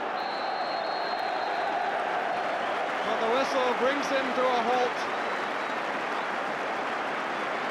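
Football crowd at Maine Road during a Manchester City v Charlton match applauding as the half-time whistle blows, a broad steady roar of clapping and cheering under a commentator's voice.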